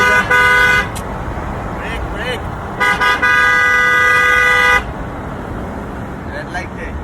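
Repeated car horn blasts in city traffic at a red signal, two long honks near the start and middle with a shorter beep, loud and close over road noise, while people talk.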